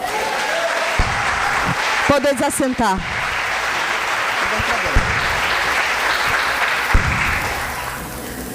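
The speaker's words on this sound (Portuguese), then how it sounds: "Aplauda Jesus." Congregation in a church service applauding, steady dense clapping from a crowd filling the room throughout, with a brief spoken phrase and some voices partly over it.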